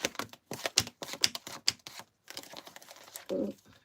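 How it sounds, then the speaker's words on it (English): A deck of playing cards being shuffled close up: rapid bursts of crisp flicks and riffles in uneven clusters, ending in a short papery rustle, with no talk. "I started back shuffling cards"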